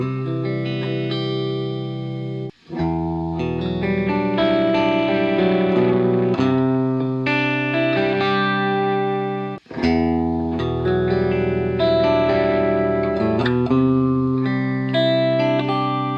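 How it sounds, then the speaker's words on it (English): An original 1959 Les Paul electric guitar with both pickups blended plays clean, ringing chords and melodic lines for a sustained passage, broken only by two brief pauses, with no voices. "both pickups on in the blend mode on clean tones"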